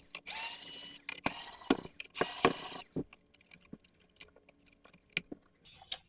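Phillips head screws being unscrewed from a PS1 Slim console case, with several bursts of rapid ratcheting screwdriver clicks followed by quieter scattered taps and small clicks, close by.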